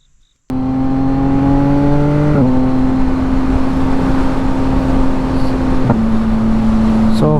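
A 2025 Yamaha MT-09 motorcycle with aftermarket mods rides along with a loud, steady exhaust drone that holds nearly even pitch and shifts slightly at a couple of gear changes, close-miked and continuous with no voices.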